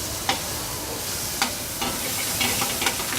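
Cumin seed, garlic, ginger and tomato fry in oil in a pan for a Goan vindaloo, giving a soft continuous sizzle punctuated by several sharp clicks of stirring.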